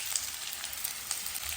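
Chorat flower fries with potatoes in a pan, giving a dense, even sizzle with small crackling pops, close and steady throughout.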